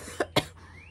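A single person's cough, close and fairly loud, with two sharp bursts in quick succession followed by quiet room tone.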